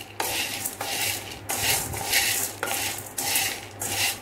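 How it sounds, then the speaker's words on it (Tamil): Dried ginger, black pepper and long pepper dry-roasting in a pan, with a spoon scraping and stirring in steady, repeated strokes that rise and fall roughly every second, close and fairly loud, with no talk. "திப்பிலி, இந்த மூணையும் நல்லா வறுத்துட்டோம், வறுத்துக்கிட்டு இருக்கோம்."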